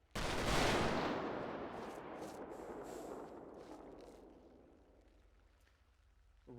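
An honor guard fires a rifle volley salute at a memorial in a police roleplay game: one loud, sharp crack opens, then a long rumbling echo slowly fades over several seconds, with no talk over it.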